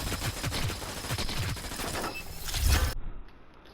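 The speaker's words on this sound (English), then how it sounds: "She starts firing at us." Enemy gunfire rattles in the shooter game Hyper Scape, rapid overlapping bursts of loud, close automatic shots with thumping impacts, ending abruptly in near silence.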